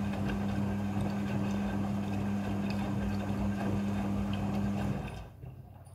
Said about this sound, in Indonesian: Mesin cuci front loading sudah full automatic dalam mencuci